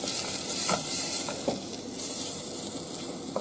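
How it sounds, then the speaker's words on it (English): Chopped onions sautéing in a pan with a spoon for crab and sweetcorn soup: a continuous sizzle with stirring scrapes and a few soft knocks, close and without talk. "saute the onions."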